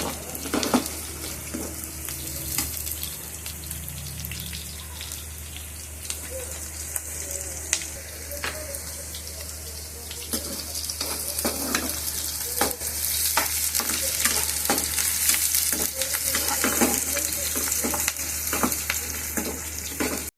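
Onion with garlic and ginger being stirred and sautéed in a pan for paneer butter masala, giving a steady soft sizzle beneath frequent scraping stir strokes, close and continuous.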